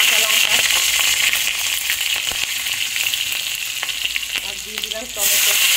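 Green chilies and whole cumin seeds fry in hot oil in a pan, giving a loud, steady, close sizzle that hisses on throughout, with light crackles and a brief swell at the end.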